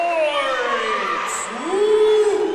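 Cheers and shouts rise from the crowd at a college volleyball match between Southern Wesleyan and Erskine, a sustained wash of voices swelling toward the end.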